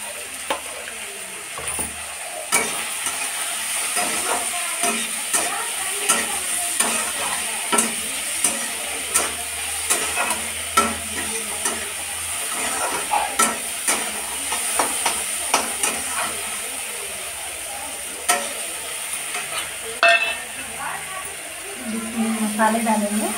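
Tomatoes and spices fry in a pan under a steady sizzle, broken by frequent scraping stirs of a spatula throughout.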